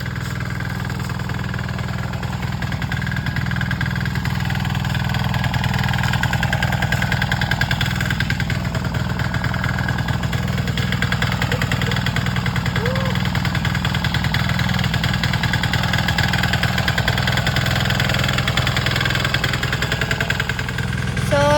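A hand tractor engine runs steadily on a farm, a continuous close mechanical drone with a low throb that holds level and loud throughout.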